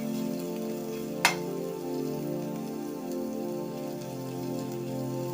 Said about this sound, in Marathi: आलं लसूण भाजू द्यायचंय